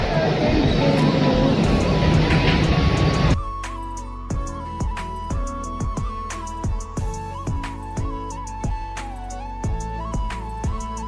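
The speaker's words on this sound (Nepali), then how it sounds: "अब चाहिँ हाम्रो प्लेन उड्नको लागि गुड्दैछ बिस्तारै बिस्तारै।" After a burst of loud rushing noise, a steady engine hum continues under regular thumps as a Korean Air plane's wheels roll slowly over runway joints, taxiing for takeoff.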